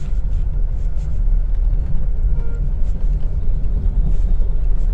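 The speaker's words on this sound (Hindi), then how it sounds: "मैं सेकंड गियर में अपनी कार को स्लोली मूव कर रहा हूँ।" A car creeping forward slowly in second gear through city traffic on a narrow road, giving a steady low engine and road rumble that stays close and even throughout, with no voices.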